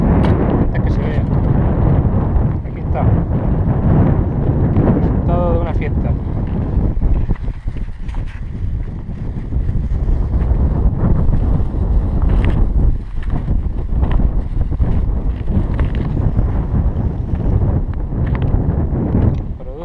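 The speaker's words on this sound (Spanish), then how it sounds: "No sé si se oirá con el viento" Strong outdoor wind batters the microphone in a university party area in Espinardo, Murcia, a loud continuous low roar with gusty swells that runs under someone speaking Spanish throughout.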